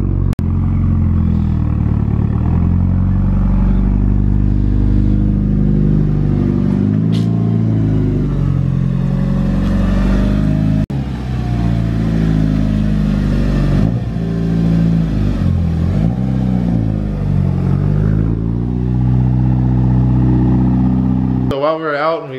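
A Mitsubishi Evo 9 engine rumbles and revs loudly up close, pitch rising and falling in repeated pulls over a steady low drone, with a sharp clatter near the end.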